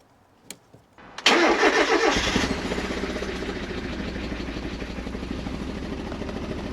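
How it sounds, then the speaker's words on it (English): A Mazda MX-5 Miata with a misfire cranks and fires up after a couple of clicks, then settles into a rough, uneven idle heard up close. "let's start her up, see whether she sounds better and whether it runs right"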